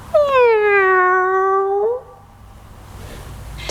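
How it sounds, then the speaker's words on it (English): A long, drawn-out angry cat meow, loud and close, sliding down and then up in pitch for about two seconds, followed by quiet room tone. "It's a bit of an angry cat."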